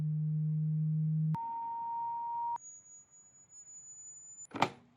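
Steady pure electronic tones step upward in pitch, ending on a thin, piercing high whine of about 9,800 hertz, followed by a short rustling clatter.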